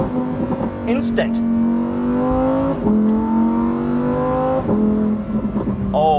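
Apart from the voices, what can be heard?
Lamborghini Huracan STO V10 gear shifts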